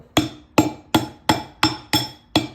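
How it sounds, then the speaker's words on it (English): Seven sharp, evenly spaced rubber mallet blows strike a chain drive sprocket on a 1987 Harley FXR, close and loud, each a dull knock with a short ring. "So I'm just taking my rubber mallet"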